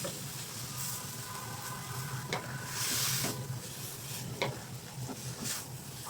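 Water spinach stir-frying with crab paste and pork in a pan, a steady close sizzle and hiss broken by scraping spatula strokes and a brief burst of steam midway, with no talking.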